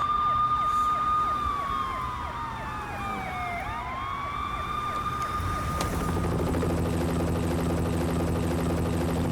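A wailing police car siren in the video game Max Payne sweeps up and down over a low engine rumble, then cuts off abruptly and gives way to a steady mechanical drone.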